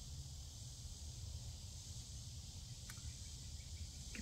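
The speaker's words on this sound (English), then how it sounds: "You can probably hear the cicadas again." A steady high drone of cicadas and crickets fills the background, faint and continuous, with a low rumble of wind underneath, on a hot day.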